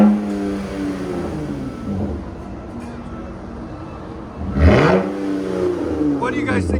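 Exhaust note of a RAM 1500 pickup with the 3.6L V6, a low engine drone near the mic that swells briefly in a rev and settles again, with faint talking at moments.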